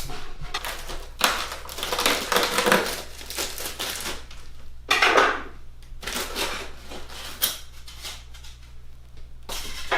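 Packing tape is ripped and peeled off an HP OMEN 27i monitor box in crackling, tearing bursts, close by, with crinkling cardboard and handling noises between the pulls.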